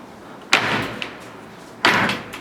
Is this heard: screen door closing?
yes